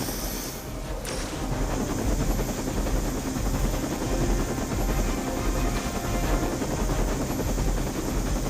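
Steady, loud helicopter rotor and engine roar from the video game Midnight Suns, a continuous dense whir with a brief higher-pitched whine fading out in the first second.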